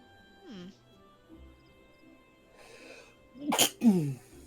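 A single sharp sneeze bursts out near the end, following scattered soft vocal sounds and a brief exclamation, fairly close and loud against quiet background game music.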